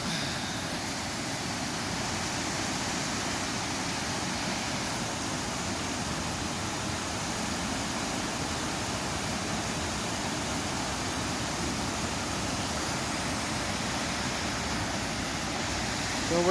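Carley Brook waterfalls and the flowing brook below them, a constant, even rush of falling water heard up close and filling the whole scene with steady hiss and roar, no break or change.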